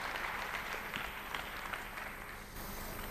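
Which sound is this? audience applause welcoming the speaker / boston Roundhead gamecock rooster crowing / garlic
audience applause welcoming the speaker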